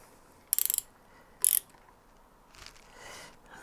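A ratchet tightening bolts on a Hayabusa motorcycle during a rebuild: two close, quick bursts of clicking pawl ticks, followed by fainter mechanical shuffling, with no talking.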